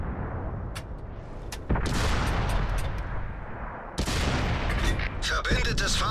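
Tank cannon fire from the Sexton I in the World of Tanks console game on the Mountain Pass summer map: two heavy booms a couple of seconds apart, each followed by sustained rumble, then sharper crackling impacts toward the end.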